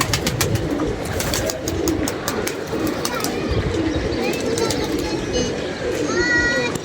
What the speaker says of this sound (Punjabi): ਇੱਕ ਬਾਹਰ ਦਾ ਕਬੂਤਰ ਹੈ ਕਿਸੇ ਦਾ।